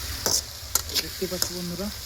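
Onions frying in a pan give a faint sizzle with a few sharp utensil clicks, while a voice speaks over the top for most of this brief moment.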